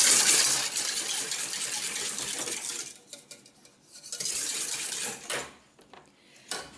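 A spoon stirs milk and sugar in a saucepan, first with a noisy swishing wash, then with a few light metallic clinks and taps against the pan toward the end. No voices.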